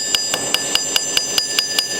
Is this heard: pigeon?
no